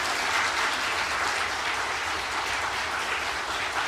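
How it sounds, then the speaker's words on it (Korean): A church congregation claps to welcome new members during a Sunday service, a dense, steady burst of applause filling the room for several seconds. "성도 여러분들께서 박수로 환영해 주시기를 바랍니다"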